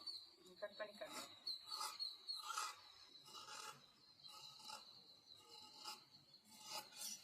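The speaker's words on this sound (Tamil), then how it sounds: "கட் பண்ணி காட்டுறேன்." Scissors cut through blouse fabric, giving a series of soft, raspy snips and rubbing strokes up close at a quiet level, with no voice heard.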